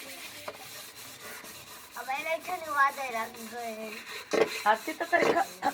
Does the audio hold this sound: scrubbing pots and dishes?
yes